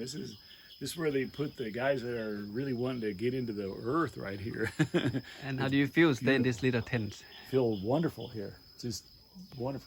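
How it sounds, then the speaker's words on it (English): Crickets drone steadily and faintly outdoors at a forest monastery retreat, under continuous conversation between two men. "You come out and sit in the nighttime and hear the crickets sing"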